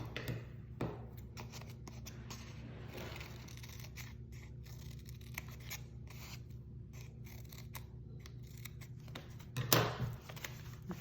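Scissors snip through folded paper for papel picado in a run of quick, close, quiet cuts with brief pauses, and a louder burst of cutting near the end.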